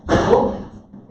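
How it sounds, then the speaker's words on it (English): A door in a busy commercial kitchen shuts with one solid, fairly loud slam near the start, its broad thud fading away over about a second. "Shut the door."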